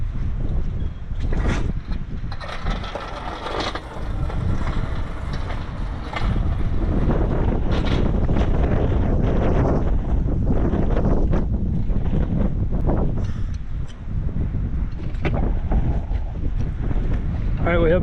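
Outdoor wind buffets a microphone beside a parked car in the sun, a loud, continuous low rumble with gusty surges throughout.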